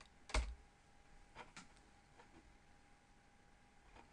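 A single sharp keypress on a computer keyboard, the F5 key, lands early, followed by a few fainter taps and clicks in a quiet room with a steady low hum.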